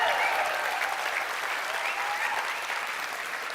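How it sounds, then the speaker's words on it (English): Sustained audience applause fills a convention hall, a dense, steady wash of many hands clapping at even loudness for the whole stretch, with no talking over it. "Maybe another round of applause for her."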